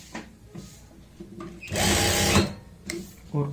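A sewing machine stitches a pocket onto a garment, a short, fairly loud whirring burst in the middle, set between quieter handling noises and faint background voice.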